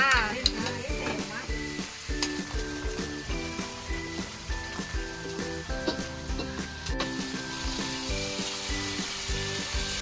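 Onions and tomatoes fry in a home kitchen pan with a continuous close sizzle, broken now and then by the scrape of stirring.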